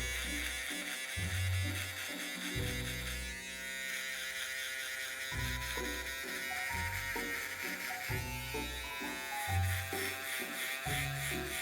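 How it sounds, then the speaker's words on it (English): Loud, continuous electric shaver buzz close by, its pitch and intensity shifting as it moves, with no speech over it. "we're gonna jump straight to the electric shaver now"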